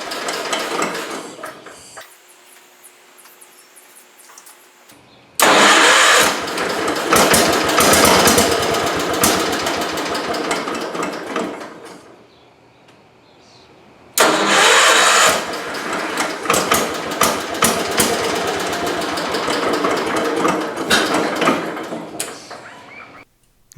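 An Allis Chalmers 310 tractor engine running extremely rich, with no voices. It roars loud and rough in two long stretches, dropping to a quieter, uneven idle in between.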